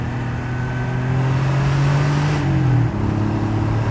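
A Porsche 964 Cabriolet's engine revs steadily and loudly up close, with a rising pitch that dips briefly during a rev-matched downshift before settling back to a strong, sustained hum.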